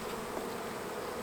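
Honeybees buzzing at a beehive make a steady, fairly faint drone that stays even for the whole brief moment, with no voices.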